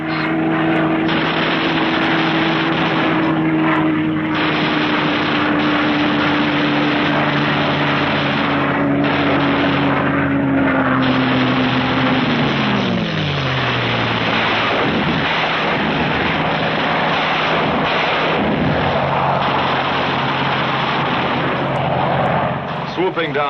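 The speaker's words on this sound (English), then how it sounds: "Skimming along at maximum speed, the fighters pair off and go to work" WWII fighter aircraft skim low at maximum speed on a 1945 wartime strafing run, a continuous loud engine roar with a droning tone that slides downward as they pass, under dense rumbling noise throughout.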